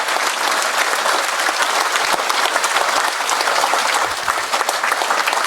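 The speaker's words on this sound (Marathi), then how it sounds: "तुम्ही चार वेळा टाळ्या वाजवल्यात" Loud, dense applause from a large audience at a public speech event, sustained and steady throughout with no pauses.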